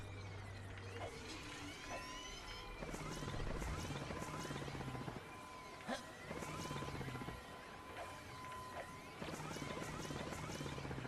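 Clank's helicopter rotor whirring in the video game Ratchet & Clank Future: A Crack in Time, a continuous buzzing hum under game music and scattered impact effects.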